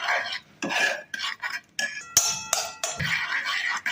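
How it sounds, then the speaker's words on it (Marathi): A spoon stirs a chocolate mixture roasting in ghee and honey in a pan over low flame, producing irregular scraping and clinking strokes with brief pauses, close up and without talk. "आता हे फिरवून घेते, छान रोस्ट होऊ देत काय."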